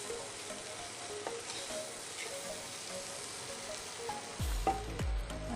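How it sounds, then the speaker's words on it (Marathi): Dal fries in hot oil with a continuous close sizzle, joined near the end by a few sharp clatters of stirring against the pan. "तेलात जर छान अशी फ्राय केली डाळ तर आणखीन छान चव येते ह्याला."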